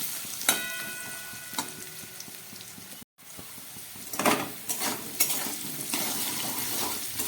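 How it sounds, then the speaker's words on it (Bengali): Potatoes fry in oil with salt and turmeric for aloo posto, sizzling steadily up close while a metal spatula clinks and rings against the pan in several scraping bursts, with a brief break of silence midway. "নুন হলুদ দিয়ে আলুগুলোকে আরও একটু আমি ভেজে নেব।"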